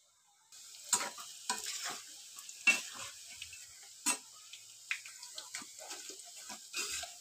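Gur kathi sticks dropped into hot oil crackle and sizzle softly in a pan, with scattered clinks and stirring sounds, intermittent bursts over quiet frying.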